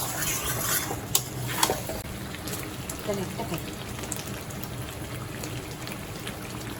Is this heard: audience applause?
no